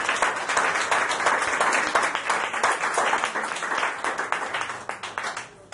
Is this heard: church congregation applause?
yes